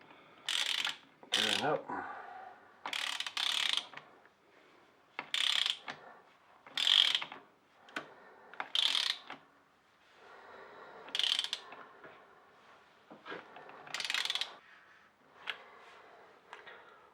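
A big ratchet with a 30mm socket tightens a motorbike wheel nut in repeated bursts of rapid clicking, close and distinct, separated by short pauses, with a brief spoken word among them.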